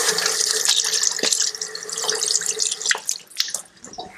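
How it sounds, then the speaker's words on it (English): A hand being washed under a running kitchen tap, a close, steady splashing stream that breaks up into uneven trickles and drips toward the end. "let me just wash my hand"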